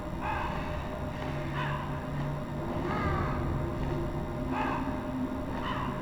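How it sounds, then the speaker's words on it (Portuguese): Crows in the Metal Gear Solid video game caw repeatedly at an irregular pace over a steady background hum, moderately loud, with no voices. "Eu tô parado esperando esses corvos me atacar."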